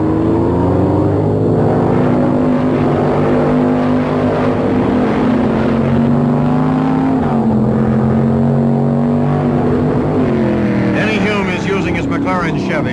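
A 1967 McLaren Chevrolet Can-Am car runs at speed at Road America, its loud engine droning steadily with a shifting pitch and rising to a rev near the end, under continuous commentary.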